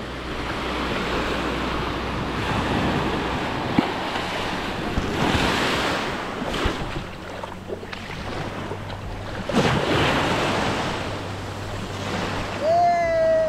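Powerful ocean waves surge and crash near the shore in loud, rolling swells mixed with heavy wind buffeting, a whistle-like tone rising briefly near the end.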